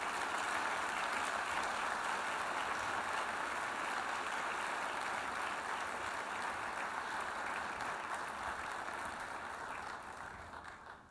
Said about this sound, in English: another round of applause for our wonderful Student STEM winners